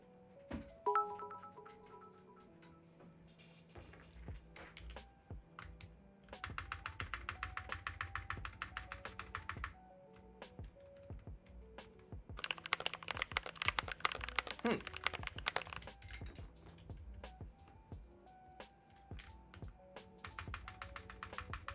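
Mechanical key clicks from a Glorious GMMK Pro keyboard, with bursts of fast typing and repeated spacebar presses heard up close, quiet and crisp between pauses.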